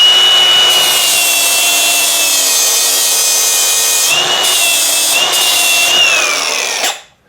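A grinder making one slow stroke to clean up a weld, a loud steady close whine with grinding hiss that shifts pitch slightly mid-pass, then cuts off at the end.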